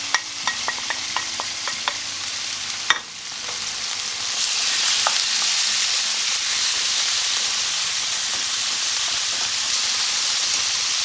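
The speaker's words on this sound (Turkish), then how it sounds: "küçük bir kuşbaşı şeklinde doğradığım tavuklarımı ekliyorum tavama" Steady frying sizzle and hiss fill the space after a few clicks and a clatter, as diced chicken is added to an oiled pan, with the sizzle growing louder and continuing without talk.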